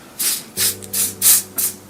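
A spray bottle gives wig lace five short, close squirts, each a crisp hiss at an even, quick rhythm with brief gaps between.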